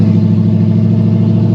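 A straight-piped car exhaust with its valve shut, running as a loud, close, steady rumbling drone with a throbbing pulse and no clear rise in pitch, alone without voices.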